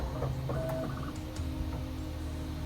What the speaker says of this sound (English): The machine goes through its calibration process and it starts to print the first layer.